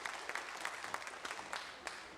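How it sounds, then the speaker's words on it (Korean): Applause from a studio audience on a live Korean TV broadcast reuniting separated families, steady dense clapping that carries through the whole short stretch. "여러분 축하의 박수를 부탁하겠습니다."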